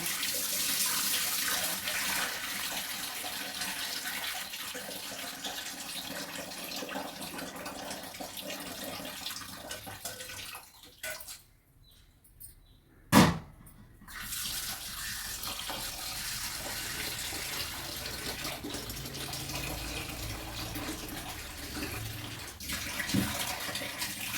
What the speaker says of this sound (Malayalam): ഈ ഒഴിച്ച വെള്ളത്തിനെ ചൂടാണ് നമുക്ക് വെള്ളം ഒന്ന് മാറ്റി കൊടുക്കാം കേട്ടോ